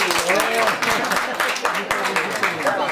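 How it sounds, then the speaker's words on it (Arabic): Applause for a participant at the closing ceremony of a national photography exhibition, steady clapping from an indoor crowd continuing under someone speaking over a microphone. "تصفيقة حارة"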